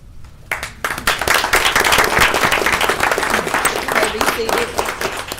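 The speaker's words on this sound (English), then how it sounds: "that definitely deserved a round of applause" A room at a commission meeting breaks into applause, many hands clapping in a thick, uneven patter that swells and holds for several seconds, with voices mixed in.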